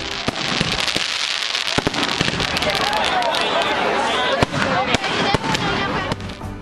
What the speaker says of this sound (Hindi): दिवाली का त्योहार हो और आसमान रंग बिरंगी आतिशबाजी से सराबोर ना हो